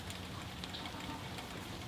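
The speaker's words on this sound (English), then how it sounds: "Since it's raining, we can just" Steady rain falls outdoors, a dense, even hiss of drops spread across the whole clip with no pauses or voices.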